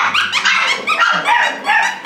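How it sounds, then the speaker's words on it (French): Two puppies bark and yip in quick, high-pitched bursts as they play together nearby, with a brief whimpering note in between. "c'est encore les deux chiots là-bas qui aboient et qui jouent ensemble"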